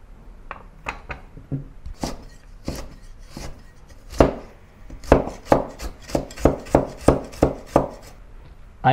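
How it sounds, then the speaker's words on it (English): A knife slicing a carrot into fine julienne strips on a board, sparse knocks at first, then a quick steady run of crisp close chops, loud and alone. "I want to cut it into julienne, into fine strips. And do the same for the carrot."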